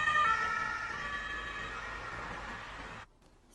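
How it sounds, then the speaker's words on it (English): An ambulance siren wails steadily at moderate distance, its tone drifting slightly lower as it recedes before cutting off abruptly near the end. "As the ambulance moves away from us, the sound waves from behind the ambulance are stretched out, giving a low frequency sound or low pitch like this."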